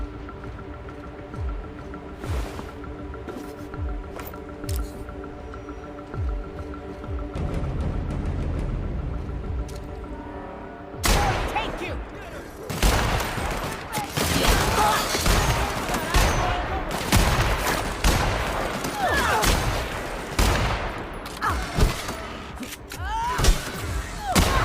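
Gunfire in the video game The Outer Worlds, with a steady hum under the first half, then a dense run of loud shots and impacts from about eleven seconds on, going on to the end.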